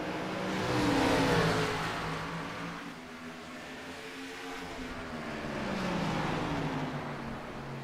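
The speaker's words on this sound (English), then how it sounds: "Look at how smooth those race cars are." Race cars in a Wild West Racing League event pass on track, engines rising and fading twice as they sweep by at moderate distance, a steady roar with no voices.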